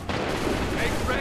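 Musket volley fire from an Assassin's Creed III battle crashes out in a short, loud, continuous burst under a shouted order.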